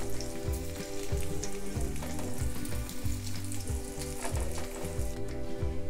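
Sweet potato slices shallow frying in oil in a pan give a steady, dense sizzle and crackle throughout, close and fairly loud, with no voices.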